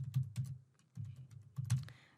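Typing on a computer keyboard while composing an email medical report to a patient, heard as bursts of close, fairly loud key clatter separated by short pauses, with no talking.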